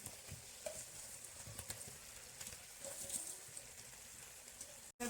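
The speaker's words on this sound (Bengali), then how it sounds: "ভালো করে মিশিয়ে নিচ্ছি এই মাংসের সঙ্গে মশলার সঙ্গে আলুটাকে" Potatoes and papaya are stirred into a well-fried, spiced goat mutton curry, giving faint, irregular scraping and soft stirring sounds with a low sizzle in a quiet kitchen.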